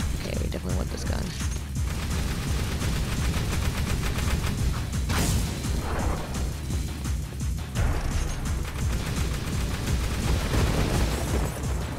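Rapid gunfire from a weapon in the video game Jak II, loud, dense bursts with booms and crashes in a busy combat scene.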